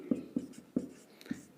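A pen or marker on a board writes a short note, four or five soft separate taps and strokes in a quick, close rhythm.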